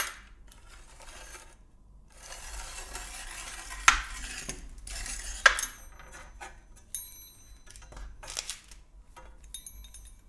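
A pizza cutter rolls through cheese cracker dough along a straight edge, giving soft scraping strokes with a few sharper clicks and taps, close and quiet, with no talking.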